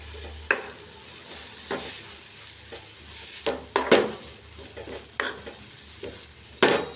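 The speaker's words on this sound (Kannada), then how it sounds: "ನೋಡಿ, ಹೀಗೆ ಫ್ರೈ ಆಗ್ತಾ ಇದೆ" Radish pieces sizzle steadily in a pan while being stirred, with repeated sharp scraping strokes of a spoon against the pan at irregular intervals, close and moderately loud.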